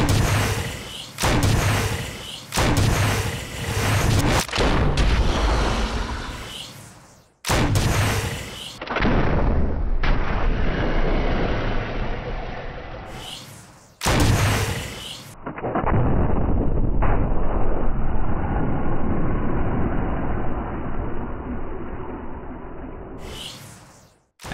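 Acid rounds fired from a weapon in the Resident Evil REmake video game, a series of loud booming shots separated by short gaps, each one followed by a decaying tail, with no voices over them.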